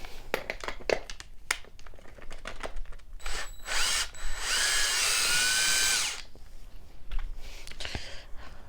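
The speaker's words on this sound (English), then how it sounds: "I just use the drill because it's just easier." A power drill whirs in one sustained burst of a few seconds removing a wheel nut on a Traxxas Summit 1/10 RC truck, preceded and followed by clanks and taps of metal tools and parts.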